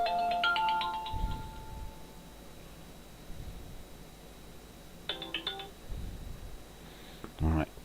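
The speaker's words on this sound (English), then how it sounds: "who's ringing me?" A phone ringtone chirps in two short melodic bursts, several seconds apart, inside a workshop shed during a live broadcast, with quiet background noise and faint handling sounds between the rings.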